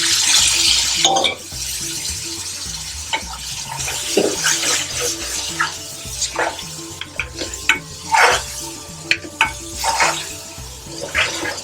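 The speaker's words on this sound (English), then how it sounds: "Now I'm going to add 3 chef spoons of base gravy." Base gravy hitting hot oil in a pan for a five-spice chicken madras, a steady sizzle with scattered scrapes and clinks of a chef spoon stirring, close and fairly loud throughout.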